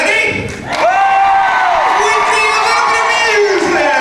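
Audience at a 2004 Eastmont High School senior party hypnotist show cheering and clapping in a loud, continuous crowd roar, with a voice booming over it.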